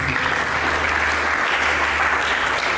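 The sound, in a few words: audience applause in church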